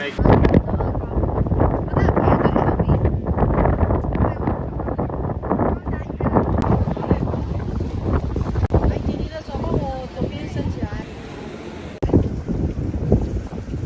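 Strong gusting wind roars across the microphone, with a steady wash of heavy rain, while a crowd of people talk nearby throughout at Yehliu's Queen's Head rock on Taiwan's coast.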